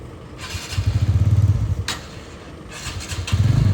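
A black Isuzu D-Max pickup truck approaches with a low, pulsing engine rumble that swells in two close bursts over a few seconds, with no talking.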